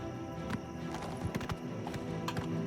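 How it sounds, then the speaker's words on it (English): Horse hooves clip-clopping in the video game Oblivion Remastered, a soft irregular patter of footfalls over a steady game ambience, with faint neighing; quiet and somewhat distant. "How come sometimes he's on a horse"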